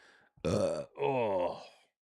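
A loud burp in two long, voiced bursts, the second rumbling and drawn out, with no talk over it.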